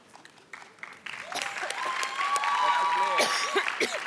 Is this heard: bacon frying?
no